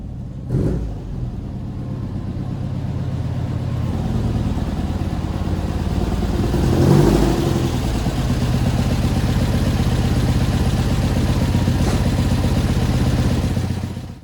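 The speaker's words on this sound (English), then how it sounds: "this car is acting and running like a little getaway car right now" A VW car with a new 1800 engine at about 1,000 miles runs with a steady, loud, close engine drone and mechanical clatter, swelling briefly in a rev near the middle before settling back to an even hum.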